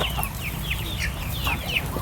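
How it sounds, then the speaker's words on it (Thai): Chickens cluck and chirp repeatedly on a Thai mixed farm raising native, meat and laying breeds, a busy flock heard fairly close over a steady low rumble of farm background. "มีไก่บ้านไก่เนื้อกับไก่ไข่"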